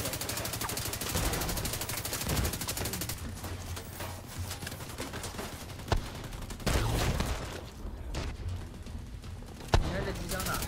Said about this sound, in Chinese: 你还在机枪呢？